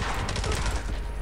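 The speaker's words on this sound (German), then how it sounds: "Die macht so viele Ratatatatam-Schüsse sozusagen." Submachine gun fire in the video game James Bond Blood Stone, a dense rapid burst of shots running continuously at steady loudness.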